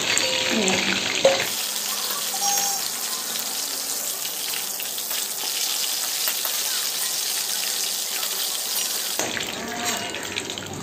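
Chicken pieces for restaurant-style chilli chicken fry in hot oil, a dense, continuous close hiss that swells after a short clatter at the start and holds steady before easing near the end.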